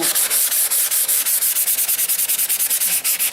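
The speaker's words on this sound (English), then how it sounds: "I'm using this, I think this is a 220 sandpaper, and just to leave it nice and smooth" Sandpaper of 220 grit rubbed over the fiberglass belly of an RC plane, a loud, close, rapid back-and-forth scratching with steady strokes repeating about every tenth of a second, heard alone.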